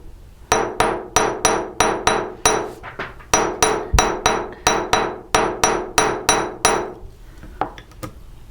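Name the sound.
hammering a metal horseshoe chain link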